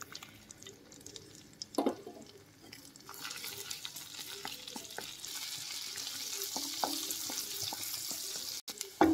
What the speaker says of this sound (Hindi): अब हम इसमें डालेंगे कटे हुए छोटे छोटे टुकड़े लहसुन के।